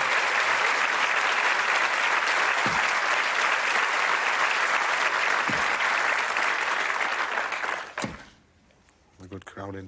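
Studio audience applause on a 1989 episode of the TV darts game show Bullseye: loud, dense clapping sustained for about eight seconds, then fading out as a voice begins speaking.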